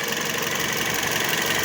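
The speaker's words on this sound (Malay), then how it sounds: "Ini bunyi engine dia lah." A close, steady idle from a secondhand car's engine with a dense, even mechanical hum and faint rattling texture throughout.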